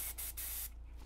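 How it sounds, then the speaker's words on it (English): An aerosol spray can gives one short, loud hiss of cleaner into the jet of a Suzuki Bandit 600 motorbike carburettor during a carb over-fuelling repair, then cuts off. "And then quick little spray out with the can again."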